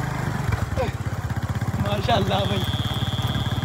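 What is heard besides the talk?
motorcycle engine running while riding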